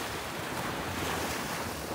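Waves washing in at Bukana Beach in Batangas: a steady, full roar of surf mixed with gusty wind noise, continuous and unbroken.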